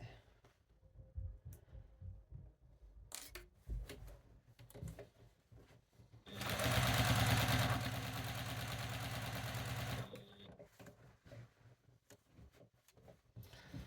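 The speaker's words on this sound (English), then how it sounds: "This is a fantastic machine for fitting quilts into as well" A sewing machine stitching a quilt runs in one loud, steady burst of about four seconds in the middle, with quieter handling clatter and small knocks around it.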